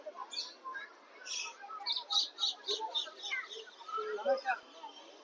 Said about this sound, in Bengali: ওখানে লুটিনো প্যারাকিট পাখিগুলো রয়েছে